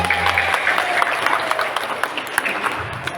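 Audience applause after a children's storytelling performance at a library office, continuous mid-sized clapping with some crowd murmur and a voice briefly at the start.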